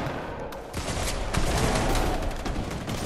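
Rapid gunfire from the video game Fortnite crackles loudly and continuously, a dense fusillade of overlapping shots with no talking.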